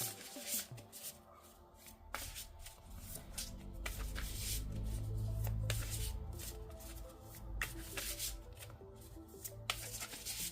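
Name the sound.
shuffling tarot oracle cards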